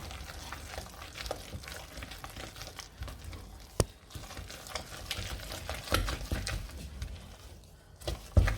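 Stirring flour into a hot milk and sugar mixture in a pot for choux dough, with soft scraping and sticky stirring close up, plus occasional clunks.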